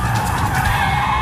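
A hot hatchback, apparently the Renault, skids through a handbrake turn at the end of a timed lap, giving a loud, close, continuous tire scrub and squeal over the engine's hum.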